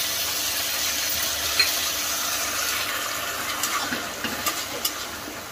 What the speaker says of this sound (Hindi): अब लहसुन अदरक का जो पेस्ट ग्राइंड करके रखे हुए हैं,